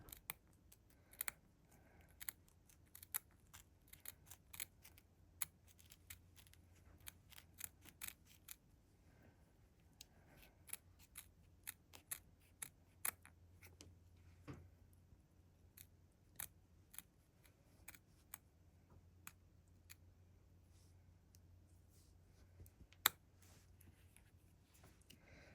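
Small scissors trim threads on bead-embroidered earrings, a scattered run of faint, close, crisp snips at irregular intervals over a quiet background.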